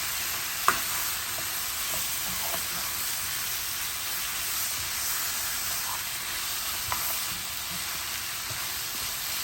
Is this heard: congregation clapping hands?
no